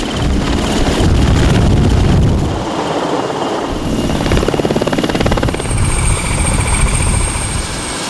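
A loud helicopter roars close by at the Jeżewo military training ground during casualty rescue training, its rotor chopping steadily while engine whine and wind rush fill the whole scene.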